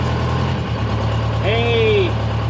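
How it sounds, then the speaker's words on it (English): Dynahoe 200-4 backhoe with a Detroit Diesel 4-71 engine idles steadily and loudly while the hydraulic bucket curls, adding a rising whine midway through the short stretch. "There's the bucket curl."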